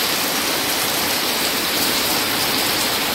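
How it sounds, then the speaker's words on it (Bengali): Heavy rain pouring down from a cloudy sky, a dense, loud, unbroken hiss of drops on surfaces with no pauses. "দেখছি আরো জোরে বৃষ্টি পড়ছে।"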